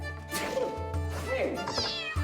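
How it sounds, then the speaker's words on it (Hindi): Kittens meow in a scene from the 2015 film Heidi, several thin rising cries heard close behind a voice speaking over them. "क्लारा ने बिल्लियों को अपनी चादर में छुपा लिया"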